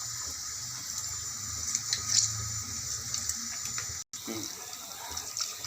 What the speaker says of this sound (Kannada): ಹುಣಸೆಹಣ್ಣು ರಸ ಇಷ್ಟಪ್ಪ ನೆನೆಸಿಟ್ಕೊಂಡಿರೋದು ಹುಣಸೆಹಣ್ಣು ರಸ ಹಾಕ್ತಾಯಿದ್ದೀನಿ.